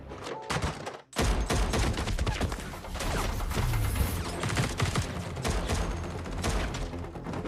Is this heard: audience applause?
no